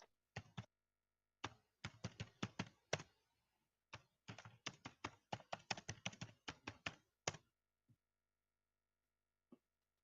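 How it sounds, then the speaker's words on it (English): Keystrokes on a computer keyboard come in close, crisp bursts of rapid taps separated by short pauses, fairly quiet and with no voices. "I can hear you typing."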